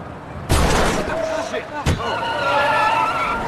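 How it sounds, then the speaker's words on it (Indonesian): A car tire bursts and the car skids in a film scene, heard as a sudden loud bang followed by a second sharp burst and a sustained screeching skid, with dramatic background sound throughout. "tiba-tiba ban mobil itu pecah"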